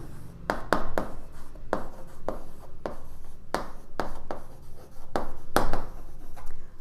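A hand writes a maths solution for a Class 10 lesson on linear equations, with a pen or chalk giving about a dozen quick, crisp scratching strokes in uneven bursts, close and clear.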